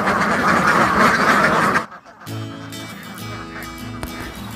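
Ducks quack in a rice paddy where a laying flock is herded out to forage, a dense loud chorus at first, then a brief lull and scattered nearer quacks over the open-field ambience.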